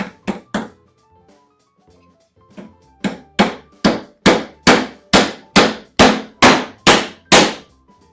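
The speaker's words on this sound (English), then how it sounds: "Now we're nailing." Hand hammer blows drive nails into pallet wood for an apple crate, a few quick strikes and then a steady run of about ten loud, evenly spaced ringing hits close by, with no speech.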